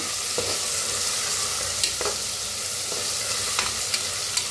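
Spices tempering in hot ghee for soya rice give off a steady close sizzle, with a few light scrapes of a stirring spoon and no voices.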